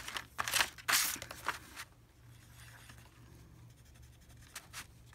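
Gel pen scratching across scrap paper, a few quick bursts of strokes in the first two seconds followed by quieter intermittent scribbles and a short final stroke.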